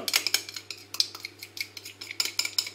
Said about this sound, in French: Et donc, on va mélanger le chocolat.